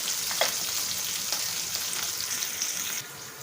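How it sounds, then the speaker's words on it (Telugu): Hot tempering poured into ridge gourd chutney, producing a loud, continuous sizzle and crackle with a few sharper pops, easing slightly near the end. "ఇప్పుడు ఈ పచ్చడిలోకి మనం ఇందాక చేసి పెట్టుకున్న తాలింపు అంతా వేసేసుకుందాం."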